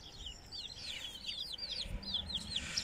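Outdoors, a mother hen with her chicks gives repeated chirping and clucking calls, some overlapping and growing busier toward the end, over a quiet background with no talk.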